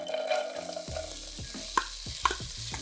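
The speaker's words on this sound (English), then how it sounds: "This pot is hot, as you can see, it's sizzling." Mirepoix vegetables sizzle in a hot soup pot while a utensil stirs and scrapes, with a few sharp clinks against the metal.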